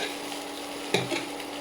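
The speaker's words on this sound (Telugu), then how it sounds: "ఈ విధంగా తిప్పుకుంటూ కలుపుకున్నాం" Fried omelette pieces and vegetables for a chilli egg starter are stirred in a sizzling pan, with a steady frying hiss and a couple of scraping stir strokes midway.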